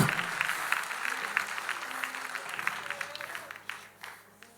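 A church congregation claps steadily for a few seconds, the applause fairly faint and thinning out toward the end.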